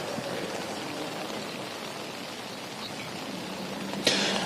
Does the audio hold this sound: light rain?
yes